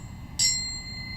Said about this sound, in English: Now, let me ring my bell.